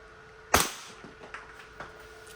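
A WE 5.1 Type K Hi-Capa airsoft pistol fires one sharp, loud shot up close, followed by a few fainter clicks and taps.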